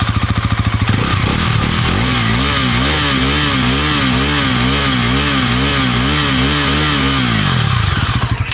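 A Bajaj Pulsar NS350Z motorcycle engine idles loudly and close, its throbbing pitch rising and falling in slow waves before settling back down.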